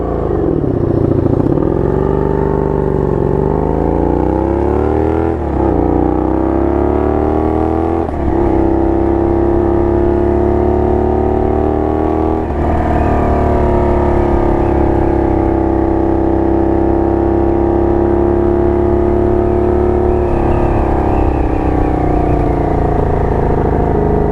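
A 1982 Honda Magna V45 VF750C motorcycle engine runs loud and close throughout, a steady throaty drone whose pitch swells and dips with several revs, and no one speaks over it.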